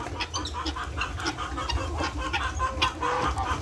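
A newly hatched rooster chick calls with a busy run of close, steady cheeps and clucks in a backyard, with no talking.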